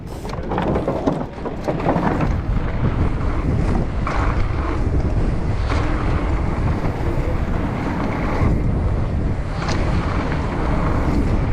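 Strong wind buffets the microphone continuously, a loud rumbling roar with gusty bursts and no voices.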